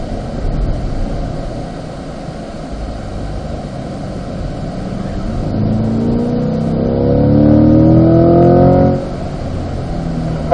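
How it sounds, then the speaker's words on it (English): A race car engine at Spring Mountain accelerates hard in third gear through a turn, its close, loud roar climbing steadily in pitch for several seconds before easing off. "Alright, third gear, turn 8."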